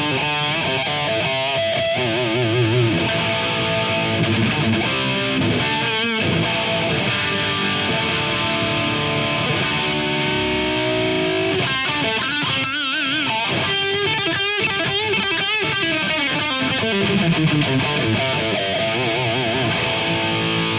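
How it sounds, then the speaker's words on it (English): Overdriven electric guitar, a Zakk Wylde signature Gibson Les Paul through an overdrive pedal, plays a searing lead line with bends and sustained notes, distorted and loud throughout, alone without voices. "If I kick in the overdrive pedal now, we start to get really nice searing lead tones"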